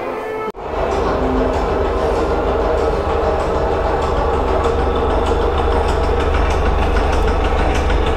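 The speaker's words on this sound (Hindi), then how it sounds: "अब आप पायलट बनो और इसको चला के देखो ये इंजन कैसे चलता है।" Model locomotive engine running in a rail museum in Ajmer, a steady loud mechanical rumble and clatter starting abruptly after a brief silence and continuing evenly throughout.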